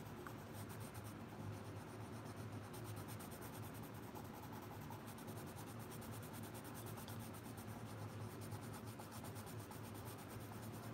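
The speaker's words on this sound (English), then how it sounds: "First, I'm going in really light with my pencil." A Blick Studio colored pencil rubbing lightly across coloring-book paper, a faint, steady soft scratching that continues unbroken with no talking.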